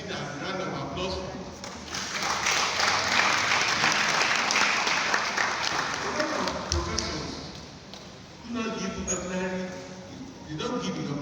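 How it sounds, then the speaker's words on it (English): Lecture-hall audience applauding at a university valedictory lecture, a dense wave of clapping that swells, holds for several seconds and fades, with a voice talking over the start and end. "That is the thing that we need a round of applause for."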